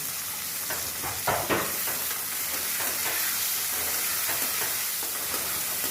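Tomatoes sautéing in a pan with onions for a Tirunelveli-style egg curry, a steady close sizzle and hiss of frying with intermittent scraping stir strokes throughout.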